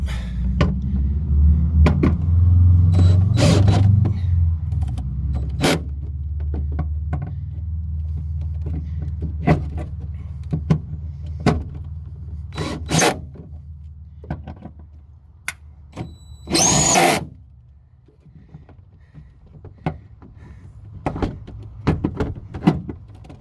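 A power tool tightening tie-down clamps in the bed of a 2025 Ford F-150 XLT, one longer whirring burst among scattered sharp metallic clicks and knocks over a low rumble, close by.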